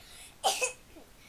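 A dog named Gus gives two quick, close coughing bursts in a quiet room, followed by a faint soft vocal trace.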